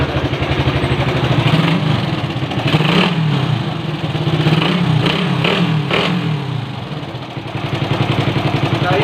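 A Honda R150 motorcycle with a carburetor and a noisy engine revs loudly and continuously nearby, the throttle rising and falling in repeated surges over a steady rough idle.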